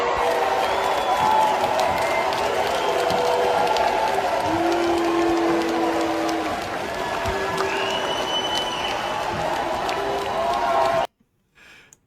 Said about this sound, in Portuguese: Olha a vaia.